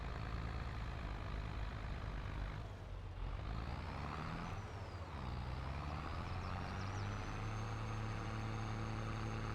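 A Farmall 1206 tractor with GPS pulls a chisel plow across a field in Farming Simulator 22, its engine a steady, heavy drone with a brief dip in the middle before returning.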